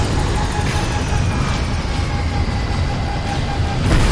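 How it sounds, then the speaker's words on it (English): A support helicopter in Metal Gear Solid V comes in to land, its loud rotor and engine drone steady and close throughout, with a faint tonal whine. "the chopper is defenseless while it's coming in to land"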